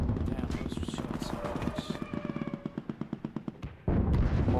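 Rapid automatic gunfire in Rainbow 6 Siege, a dense burst of shots that slows into evenly spaced bursts before ending abruptly, with loud game noise afterwards and talk over it.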